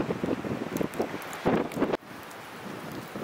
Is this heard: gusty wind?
yes